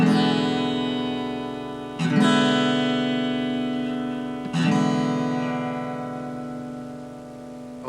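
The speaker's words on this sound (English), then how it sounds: "All 6 strings are strummed" A two-finger seventh chord on guitar with all six strings strummed rings out three times, each strum sharp at the attack and then sustaining and slowly fading before the next.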